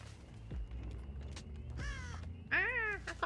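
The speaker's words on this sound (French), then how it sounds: "Ah, un corbeau." A crow caws in the horror video game Dead by Daylight: a couple of harsh, raspy calls, the second louder and closer, over a low ambient rumble with no talking.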